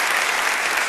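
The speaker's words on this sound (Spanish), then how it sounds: "Una multitud los fue a aplaudir." A crowd applauding veterans of the Operativo Independencia war in Tucumán, a dense, steady wash of many hands clapping at once, loud and continuous with no talk over it.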